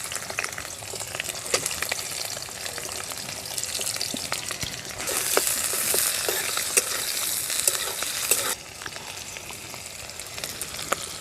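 Chopped onion fries in oil in a wok for a village-style chicken curry, a continuous sizzle that swells into a louder, brighter hiss midway, broken by light stirring clicks.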